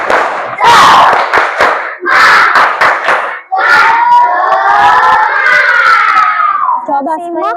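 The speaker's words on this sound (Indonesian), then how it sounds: "Kira-kira kita tepuk semangat dulu ya, biar lebih semangat. Oke, tepuk semangat." Fourth-grade elementary classroom children doing a rhythmic spirit clap chant, loud bursts of clapping and shouted group chanting in sharp repeated patterns, then a long sustained cheer of young voices.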